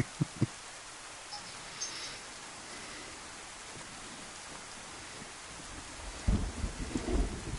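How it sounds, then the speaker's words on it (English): Video game rain falls steadily and faintly in a zombie survival game, with soft thunder rumbles near the start and a heavier roll of thunder toward the end. "So it's been raining for at least 17 and a half minutes that I know of."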